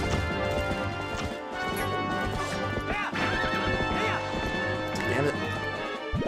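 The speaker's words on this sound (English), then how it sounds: "Come on, stupid horse." A horse gallops and whinnies in Zelda: Twilight Princess HD, with a rapid clip-clop of hooves, crashing impacts, and game music running continuously underneath. Someone talks over the action.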